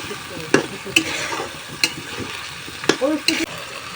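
Chicken curry bubbling and sizzling in a pan as milk goes in, with a soft steady fry under several sharp spoon scrapes and clinks against the pan.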